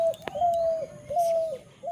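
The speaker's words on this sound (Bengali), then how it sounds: "আর এই জাম্বুরের কাছে পাখিটা ডাক মারছে" A bird near a pomelo tree gives a repeated dove-like cooing call, three drawn-out notes close by with a sharp click early on, over faint outdoor background.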